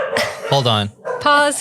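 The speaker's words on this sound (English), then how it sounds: "Sorry about the dogs." Dogs bark in several loud, close bursts, with yips and whimper-like tones mixed in, while a person speaks briefly over them.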